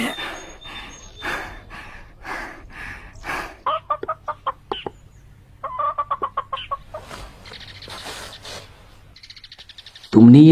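Chickens cluck in short rapid bursts, several birds near and loud, with brief pauses between runs and a sharper squawk near the end.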